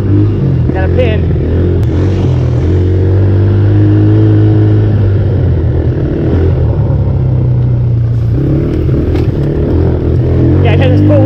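Small ATV engines, a 50 and a 90, race on a farm with a loud, continuous droning roar that holds nearby and close, rising slightly in revs, with voices talking over it.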